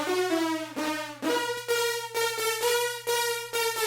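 Bright trap synth lead from a sampler with its high shelf and low pass EQ bands removed, playing a sustained harmonic melodic phrase in repeated note attacks, steady and loud with no voices.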